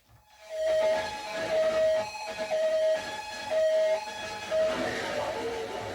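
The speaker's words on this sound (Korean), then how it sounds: "사고 현장은 연속적으로 울리는 사이렌과 비명 섞인 울음소리로 가득 찼습니다" Wailing sirens at a department store disaster scene rise and fall repeatedly over a noisy background, loud and sustained after a brief quiet start.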